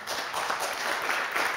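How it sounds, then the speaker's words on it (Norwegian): Short burst of audience applause in a lecture hall at a Norwegian energy forum, an even patter of many hands clapping, fairly soft and heard alone with no talking. "så nå skal du få en applaus i det du starter ditt innlegg"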